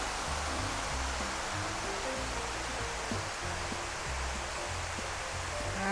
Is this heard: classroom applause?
no